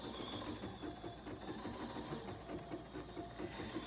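A Bernina sewing machine stitches a garden flag in a quick, even chatter of needle strokes, close up and steady, with a faint whine underneath.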